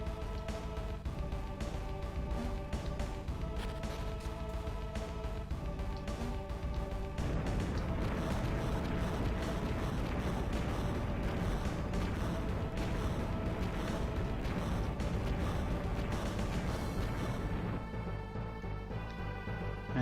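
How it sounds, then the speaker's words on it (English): Small volcanic eruption in the Magma Rock area of the Golden Sun: The Lost Age video game, a steady series of loud rumbling, crashing bursts over continuous game music, ending in a brief quieter tail. "we just witnessed a small volcanic explosion, and we were lucky enough not to be doused in lava"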